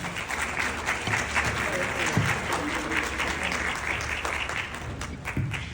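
Sustained applause from a conference audience, steady and dense clapping throughout with a few louder individual claps near the end.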